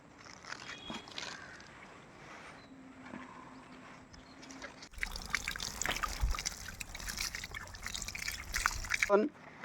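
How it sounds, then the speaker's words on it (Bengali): Water mixed with magnesium sulfate (Epsom salt) is poured onto soil in a plant pot, a close, steady trickle and splash lasting several seconds after a quieter stretch where a voice talks. "তারপর জল দিয়ে দেবেন"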